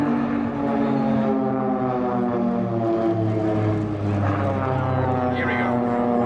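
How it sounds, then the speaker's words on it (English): Swiss Air Force Pilatus PC-7 propeller planes fly at the Sanicole airshow, a loud, sustained droning buzz whose pitch shifts as the aircraft pass, with faint crowd noise underneath. "the spectacular crossing of 4 aircraft"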